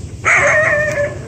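Helga, a dog that reacts aggressively to other dogs, gives one sharp, close, loud bark that trails off into a whining tail, with a low background hum.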